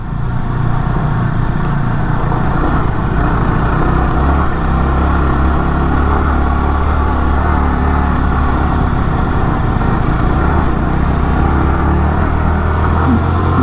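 A motorbike stuck in first gear on a rough road holds a loud, constant high-revving engine drone close by, steady throughout with a low rumbling undertone and no talk.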